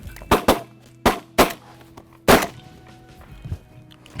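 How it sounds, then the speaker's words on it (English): Shotguns fire during a duck hunt in an oat field, with about five or six sharp, close blasts in quick irregular pairs and singles, then a fainter report. "Good shooting."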